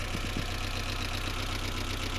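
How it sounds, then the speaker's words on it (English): A 1992 Toyota MR-2 Turbo engine idles steadily and close up, a continuous rumble with a faint ticking valve noise running through it. "And then it also sounds like valves are making noise."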